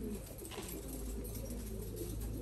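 Thai Titan meat pigeons at a farm, soft low cooing from a flock, steady and continuous under a muffled background hum.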